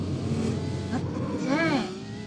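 A racing car engine in a Roblox video game revs steadily with rising and falling pitch sweeps, loud and continuous under background game sound.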